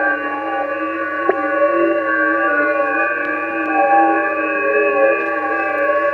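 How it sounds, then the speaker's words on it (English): FT8 digital radio tones generated by a computer sound card, several steady overlapping pitched tones sustained loudly for about six seconds, with a faint click near the start. "what you're hearing there is a computer generating tones with a sound card inside of it"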